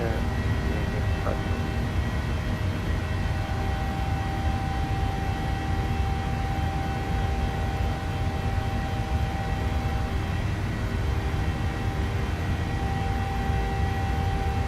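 A PMDG 737-800 in Microsoft Flight Simulator climbs out with a steady, loud, unbroken jet engine roar and whine from start to finish.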